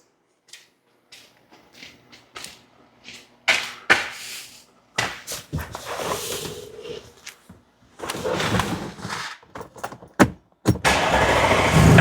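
A 2014 Audi Q5 with a misfire and rich-running fault cranks and starts after scattered clicks and clunks nearby, stumbling briefly before settling into a loud, rough idle.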